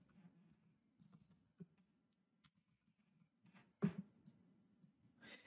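Soft, quiet taps on a computer keyboard come in short bursts with pauses between them, and one sharper click stands out near the end.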